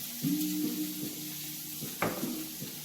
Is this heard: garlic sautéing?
yes